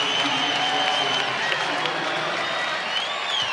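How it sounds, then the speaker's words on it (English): Basketball arena crowd at a Nevada Wolfpack NCAA game against Utah State roars and applauds steadily after defensive plays, a dense, sustained wall of cheering with whistles and shouts throughout. "with 2 great defensive plays, the crowd is on their feet"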